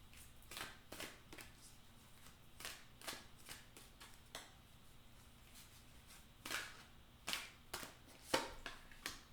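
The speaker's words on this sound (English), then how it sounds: "Shuffle these cards." Tarot cards are shuffled by hand in a quiet room, with a series of soft, sharp riffling snaps and taps at irregular intervals, close but faint.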